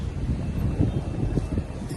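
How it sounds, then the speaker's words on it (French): Light wind by the sea in warm weather, a steady breathy rush with low buffeting against the microphone and no voices. "il fait bon, il y a un petit vent"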